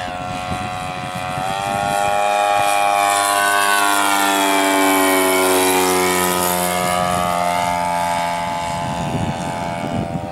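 A radio-controlled stunt model airplane flies at an R/C club field, its engine whine rising and falling in pitch as it passes close overhead, loud and continuous with no talk.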